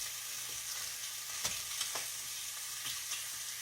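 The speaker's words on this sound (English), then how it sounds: "My bacon is cooking over there" Bacon frying on a stove, a steady faint sizzle and crackle with occasional small pops, heard from a short distance with no talking.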